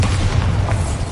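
A Bombarda explosion spell going off in Hogwarts Legacy, one heavy booming blast that fills the short moment with a dense low rumble.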